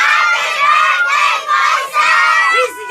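Children at a birthday party shout loudly together in a sustained crowd roar, with brief dips between bursts.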